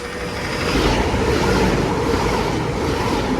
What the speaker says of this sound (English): our first Avanti West Coast train of the day, and more than likely the only one on Evra about to pass through